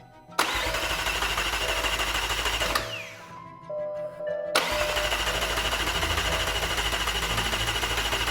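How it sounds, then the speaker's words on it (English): Starter motor on a McLaren 720S cranking steadily and loudly without the engine catching, with power wired directly to the starter and the ignition on. It whirs in one long run, drops out briefly, then resumes. "My dad was just going to put power directly to the starter motor whilst I had the ignition on."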